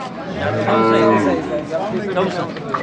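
A bull at the Chakan cattle market lets out one long, close moo, with market chatter around it.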